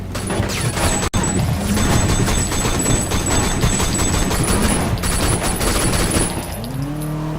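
Rapid gunfire in the open-world action video game Sleeping Dogs, with dense automatic bursts and crashes filling the scene loudly and continuously, backed by engine noise and a rising vehicle whine at the end.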